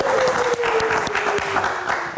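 A live talk-show audience applauds a singer's introduction with a full, steady round of clapping. A faint sustained tone slowly falls in pitch beneath the clapping throughout.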